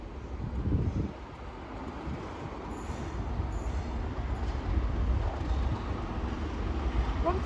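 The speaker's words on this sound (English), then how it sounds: "Why are these trains having a drag race?" Trains running through Cardiff Central station, with two units side by side on the South Wales Main Line, rumbling and clattering steadily at close range throughout with a faint wheel squeal near the end.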